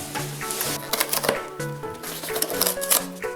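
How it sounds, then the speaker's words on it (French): Unboxing a Playmobil ski-themed toy set, with close cardboard and plastic rustling, tearing and small clattering bursts in an uneven, busy rhythm. "Je vais maintenant ouvrir l'autre boîte"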